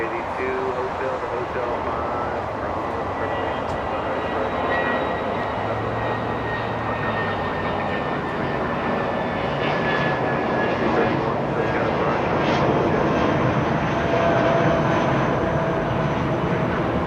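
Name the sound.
MD-80 airliner taxiing at Los Angeles International Airport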